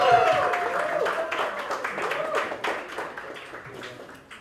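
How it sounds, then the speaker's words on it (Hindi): Audience applause for a film director being welcomed at a radio drama launch event at an FM radio station, a dense wash of clapping running throughout, with a host's voice and tonal sounds riding over it. "एक बार जोरदार तालियां स्वागत कीजिए साइनाथ के डायरेक्टर शमांतो रे"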